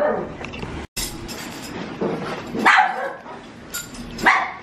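Several dogs bark in sharp, loud bursts, with a few spaced yelps near the end over a steady background rumble.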